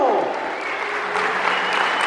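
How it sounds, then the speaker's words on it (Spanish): Sustained applause for the first competing couple at an adult regional cueca dance championship in Chile, a dense crowd clapping steadily and evenly from start to finish with no pause. "más fuerte el aplauso a la pareja número uno."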